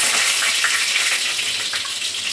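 Curry leaves, crushed garlic, cumin and mustard seeds sizzle and crackle steadily in hot oil, a loud, continuous frying hiss close up with no talking.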